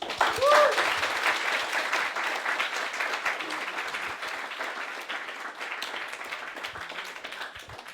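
A careers fair audience applauds, with dense clapping that holds steady for several seconds and then thins slightly toward the end.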